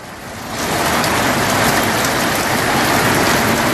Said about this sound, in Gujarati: ઊંઝામાં ભારે પવન સાથે વરસાદ વરસ્યો હતો